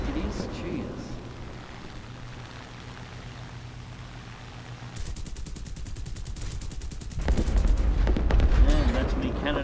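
Hawker Typhoon Mk 1b/L aircraft cannon firing in War Thunder, a rapid steady stream of shots for about two seconds over engine drone, followed by a louder rumbling burst, with a player talking faintly at the start.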